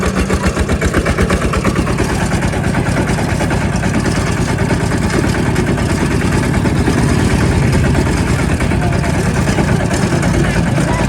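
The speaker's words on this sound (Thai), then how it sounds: "เอารถไถเดินตามมา" A walking tractor engine runs in a field during cassava planting, chugging steadily and loudly with a continuous rapid thumping rhythm and no break throughout.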